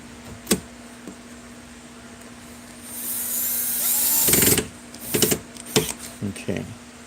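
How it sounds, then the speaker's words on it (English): A power drill drives screws back into an amplifier in short, close whirring bursts. One longer run is followed by several quick stop-start pulses, with small knocks between them. "I'll put these screws back in here"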